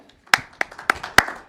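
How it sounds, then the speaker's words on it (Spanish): Sparse clapping during a church sermon, five or six sharp, close hand claps spaced irregularly rather than a full crowd applause. "Podemos dar un aplauso por ese concepto, ¿eh?"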